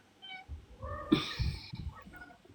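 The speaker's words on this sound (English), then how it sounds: "My cat's like having a temper tantrum." Agitated house cat having a tantrum, giving a few close, plaintive meows in quick succession, with one sharper, louder cry in the middle, over a quiet room.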